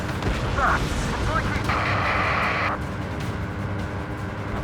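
Missile explosions and heavy combat rumble in the flight game Ace Combat 7, a dense low roar with a brief burst near the middle, heard under radio chatter voices.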